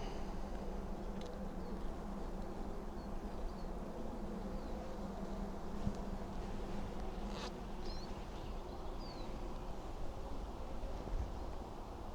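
Honeybees buzzing around their queen and a honey jar, a faint, steady hum that runs unbroken the whole time, with a few brief flickers of nearby wingbeats and no talk.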